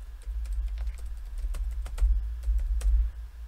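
Someone types on a computer keyboard while setting up a Raspberry Pi with RetroPie, a close, rapid run of uneven key clicks over a low steady hum.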